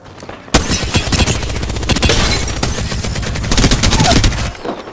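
Dense, rapid gunfire from Apex Legends rattles nearly nonstop for about four seconds, loud and close, with overlapping bursts and a brief quiet lead-in.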